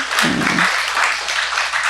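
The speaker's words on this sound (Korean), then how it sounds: "밤낮으로 육아에 애쓰는 맘들을 위해 응원의 박수 해주세요." A church congregation in Seoul breaks into short, full applause to cheer on mothers, the clapping steady and close, with a brief low murmur near the start.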